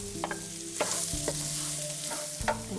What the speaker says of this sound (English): Next, we're going to throw in the onions.